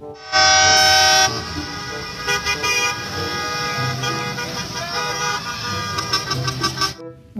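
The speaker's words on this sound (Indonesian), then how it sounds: "Lihat, ada mobil bus sekolah." A toy school bus horn gives one loud, bright electronic toot near the start. Softer toy rattling and clicking sounds follow.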